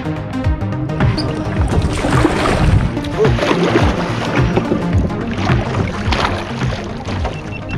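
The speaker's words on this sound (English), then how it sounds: "just get out there and go for a bit of a paddle" Offshore kayak paddling on cold winter water off the Gold Coast, Queensland: continuous close splashing and sloshing as the paddle strokes, with steady water noise and light wind throughout.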